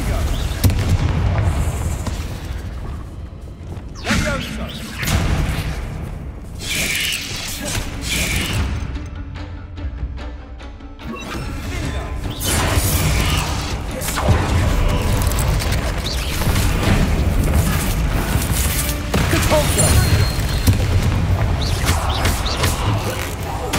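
A Confringo fire spell explodes in Hogwarts Legacy inside a tomb: a loud blast and rumbling crackle under a dense, continuous game soundscape, with voices talking throughout.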